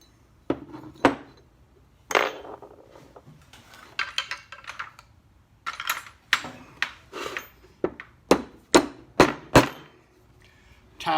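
Part of an Uzi submachine gun is tapped back into place during reassembly, giving a series of sharp, close metallic taps and knocks with short gaps between them, quickening into a rapid run near the end.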